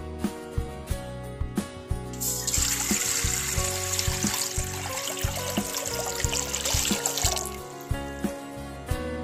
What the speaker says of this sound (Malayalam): ഇതിനകത്തോട്ട് രണ്ട് ലിറ്റർ വെള്ളം ഒഴിക്കാം